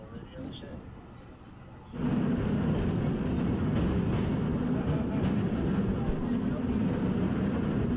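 A San Francisco cable car runs on its rail, a quiet rumble at first, then a loud, continuous rolling roar with rattles and clanks once the car gets moving.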